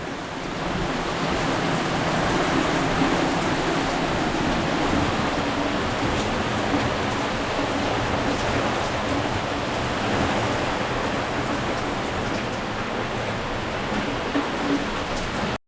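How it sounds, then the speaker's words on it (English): Heavy rain pours down loudly and steadily, a dense, continuous roar of water that holds at a constant level throughout with no voices. "they threatened rain, and it hasn't disappointed."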